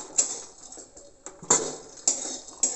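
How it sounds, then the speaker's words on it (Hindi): Raisins are roasted and stirred in a pan, producing intermittent close metallic scrapes and taps of a spoon against the pan, about four distinct strokes separated by quieter gaps. "तो ऐसे ही हम कुछ देर इनको किशमिश को भी भून लेंगे।"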